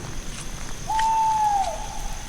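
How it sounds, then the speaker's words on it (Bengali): In a Bengali ghost audio story set on a pitch-dark night, a single drawn-out owl hoot sounds clearly over a low, steady background hiss, lasting about a second before trailing off. "হঠাৎ একটা পেঁচার কর্কশ শব্দে সমস্ত পরিবেশটাকে কেমন যেন থমথমে করে দিল।"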